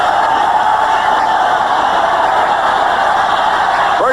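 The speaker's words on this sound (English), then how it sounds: "Listen to this crowd." A football stadium crowd roars in a steady, loud wash of cheering after a quarterback sack in a 1981 AFC Wildcard game, Buffalo Bills at New York Jets, sustained and distant-sounding without breaks.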